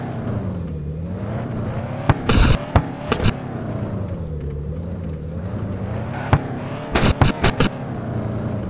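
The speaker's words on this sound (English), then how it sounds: "Drive police car mobile from roadside parking to the transporter truck." Police car being driven in a mobile transporter game, an engine drone that rises and falls as it accelerates, with several sharp bursts of clattering impacts, no talking.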